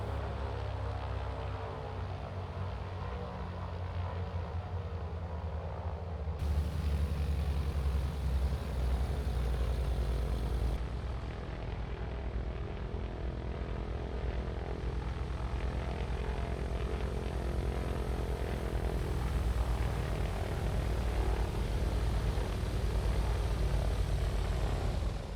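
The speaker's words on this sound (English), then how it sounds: "we are going to taxi over to the apron and park our aircrafts." A TB-30 Epsilon propeller aircraft taxis in Microsoft Flight Simulator 2024, its steady engine and propeller drone holding low and even, rising slightly partway through, with no talk.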